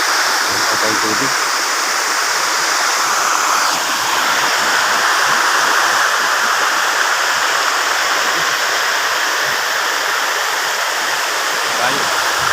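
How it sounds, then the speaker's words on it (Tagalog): Malingin Falls in Bohol pours steadily with a dense, broad roar of falling water, constant and close for the whole stretch, with voices faintly audible beneath it. "Malingin Falls sa Bohol."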